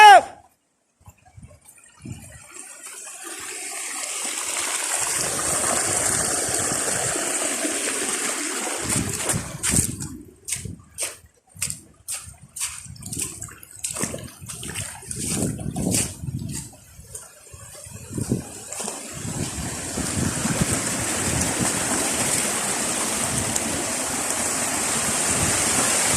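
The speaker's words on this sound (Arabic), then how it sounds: "وهذه ليست بعد الأمطار إنما هي غيول، شلالات وطبيعة" Waterfalls and flowing streams roar in a natural valley after rain, a broad continuous rush of water with splashing bursts and a brief stretch of choppier, uneven churning in the middle.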